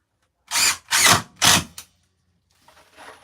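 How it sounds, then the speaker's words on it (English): A power drill drives screws into a wooden table top under construction, with three loud whirring bursts in quick succession, a short fourth blip, then faint handling noise. "try to go across here right where I've been shooting screws"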